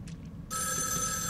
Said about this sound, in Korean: 전화 온다.